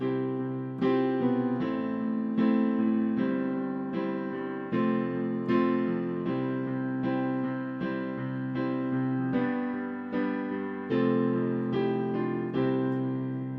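A guitar strums the chorus chord progression of a song, one chord after another in an even rhythm, clear and close with no voices.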